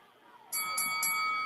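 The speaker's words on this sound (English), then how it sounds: "Ring the bell." A wrestling ring bell is rung at the end of a match, sounding several sharp, bright strikes in quick succession over crowd noise.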